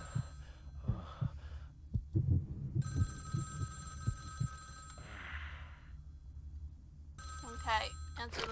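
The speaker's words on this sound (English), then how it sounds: "Okay, answer the phone." A telephone rings inside the Vampire: The Masquerade - Bloodlines video game. Steady electronic ringing tones sound in repeated bursts over low game ambience and scattered thumps, with a voice talking at the start.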